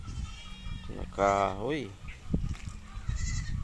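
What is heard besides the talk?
goats bleating while feasting on leaves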